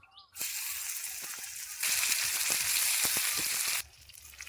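Chicken tikka pieces frying over a village cooking fire, making a loud, steady hiss and sizzle that swells partway through, crackling throughout and dropping away near the end.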